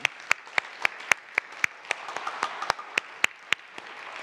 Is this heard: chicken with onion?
no